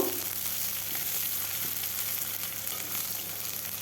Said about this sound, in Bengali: পেঁয়াজটাকেও দিয়ে কিছুক্ষণ ভেজে নেব